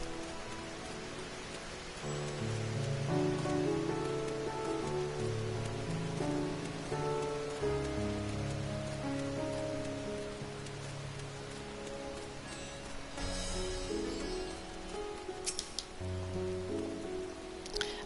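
Steady rain falls at night in the video game Final Fantasy XIV, a soft continuous patter beneath gentle, sustained background music, with no talking.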